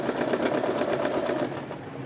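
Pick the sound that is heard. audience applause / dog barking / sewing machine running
sewing machine running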